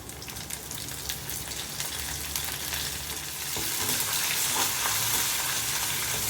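Onions and curry leaves fry in hot oil in a pan for fish curry, giving a steady, dense sizzle up close that grows slightly louder partway through, with no one talking.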